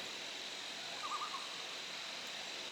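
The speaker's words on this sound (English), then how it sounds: "So we hear loons." A loon calls once across a lake, a faint, brief wavering cry at a distance over a steady background hiss of insects.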